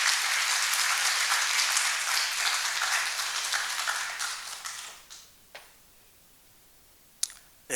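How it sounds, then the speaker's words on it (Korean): An audience gives dense, loud, sustained applause to welcome a speaker at a talk on the Korean War and national liberation. The clapping thins out after about four seconds, leaving a few scattered claps and clicks. "나오실 때 박수로 크게 환영하겠습니다."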